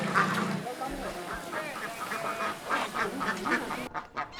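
Ducks in a rice paddy within a rice-fish-duck farming system in the Huanggang countryside quack repeatedly in overlapping, nasal calls, fairly close and continuous, before the sound drops away near the end.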